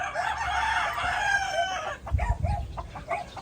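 A rooster crows in a long drawn-out call, and short clucks follow close by.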